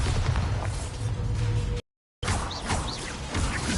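Spell explosions and magical blasts from the Hogwarts Legacy video game, including a Bombarda blast: loud, dense bursts and crashes with whooshing effects, broken by a brief silent gap before the booming resumes.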